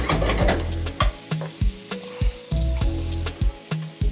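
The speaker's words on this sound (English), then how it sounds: "So the shrimp has been added. And so you cook this on high heat." Shrimp frying on high heat sizzles in a pan while a utensil stirs and scrapes, giving repeated knocks roughly every half second over a steady crackle, close up with no talking.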